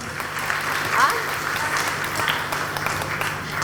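Audience clapping at a spiritual talk, a short burst of steady applause from a crowd with a voice speaking over it.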